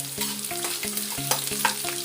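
Garlic cloves sizzle in hot oil with popped mustard seeds, urad dal and fenugreek for a Tamil sundakkai kuzhambu, a turkey berry curry. A continuous crackling fry is broken by rhythmic scrapes of a stirring spoon against the pan.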